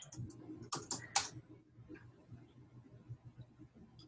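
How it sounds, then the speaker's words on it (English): Quick bursts of typing on a computer keyboard during a call, a cluster of fast clicks at the start followed by a few scattered taps over a low, murmuring background. "I'll type it in the chat real quick"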